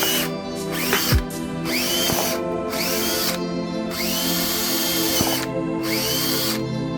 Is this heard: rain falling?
no